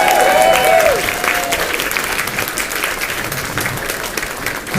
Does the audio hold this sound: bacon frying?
no